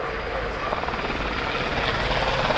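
A rescue helicopter flies an airshow display, its loud rotor chop and engine roar filling the air in a steady, close drone.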